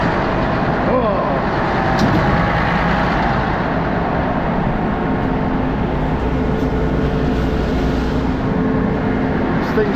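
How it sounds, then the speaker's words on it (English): Concrete pump truck at a high-rise job shifting over, a loud continuous low rumble and grinding roar that fills the whole stretch, near and dense with mechanical noise. "This thing shifts over, it sounds like the world is coming to an end."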